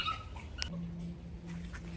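Dogs yip and whimper faintly in the distance at a community planting garden, a few brief, soft calls against quiet background.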